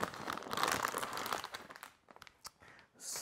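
Packaging for a dual 12 GB graphics card crinkles and crunches close up as it is unwrapped, busy at first, then thinning to scattered rustles and taps.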